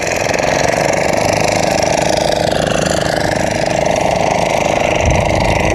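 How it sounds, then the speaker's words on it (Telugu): Engine of a boat passing on the backwaters near Vizag, a steady loud mid-pitched drone that runs unbroken throughout, close by and alone. "ఇక్కడ వేరే వాళ్ళు బోటు వెళ్తున్నారు"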